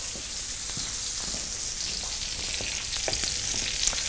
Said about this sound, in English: Let's just check on our tomatoes. They're cooking nicely.